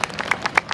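A crowd at an outdoor justice rally in Jakarta claps for the police, a short burst of sharp, separate handclaps at an uneven rhythm, moderately loud and close.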